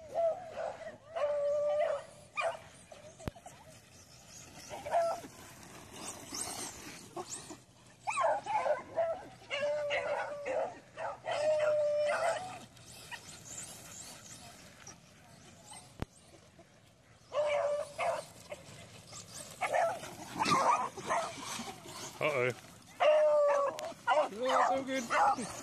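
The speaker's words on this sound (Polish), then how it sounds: "gdy psów ma się całe stado, a przecież każdy z nich musi się wybiegać" A pack of dogs barking, yipping and whimpering in repeated bursts while they run outdoors, mixed with a narrator's voice-over and dog sounds alternating throughout.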